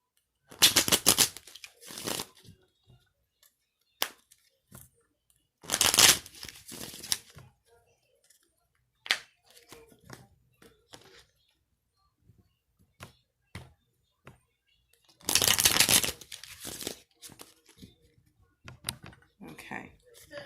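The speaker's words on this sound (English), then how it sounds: "I'm going to go ahead and give the cards a quick shuffle." Tarot cards are shuffled in several brisk riffling bursts, crisp and close, separated by quiet pauses with scattered light card taps and handling sounds.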